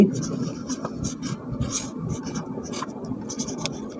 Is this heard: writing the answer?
yes